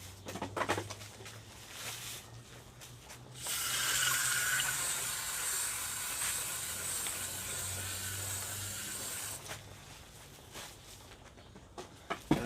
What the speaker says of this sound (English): I'm gonna spray one more thing of water